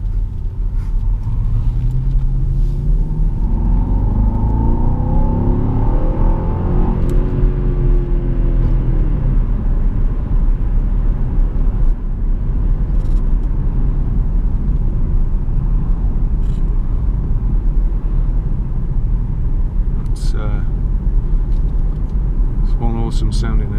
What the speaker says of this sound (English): Awesome sounding engine.